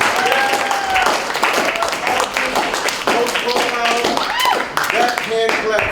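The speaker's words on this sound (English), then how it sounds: "I want you to give yourselves the biggest round of applause for being here" An audience claps for itself at a Yellow Ribbon event, a moderately loud round of scattered hand claps mixed with cheering voices and talk throughout.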